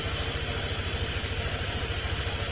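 A Honda Click 125 scooter idles after an engine rebuild, a steady low mechanical hum with an even throbbing pulse, close and continuous.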